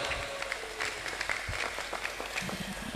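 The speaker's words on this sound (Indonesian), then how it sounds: "Tepuk tangan buat kita semua" Applause from an audience at an Islamic boarding school gathering honouring pencak silat champions, a sustained wash of clapping with scattered louder claps, fairly close and steady.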